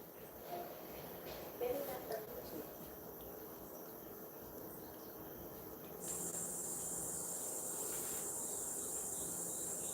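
Steady cricket chirping fills a quiet night-sky scene on a starfield screensaver, a continuous high trilling hiss that grows slightly louder and brighter partway through, with no talk over it.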